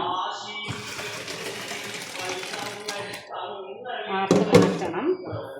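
Cold tap water runs over cooked macaroni in a strainer, giving a continuous splashing rush with a few clunks of the strainer. A person talks over most of it.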